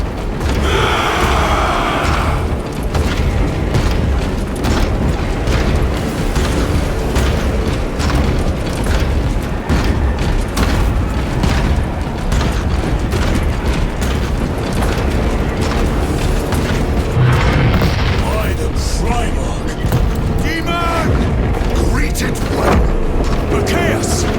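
Dense, nonstop battle roar from Warhammer 40,000: Space Marine 2 on PS5: heavy gunfire and booming explosions layered into a loud, unbroken wall of combat noise, with shouted voices buried in the mix.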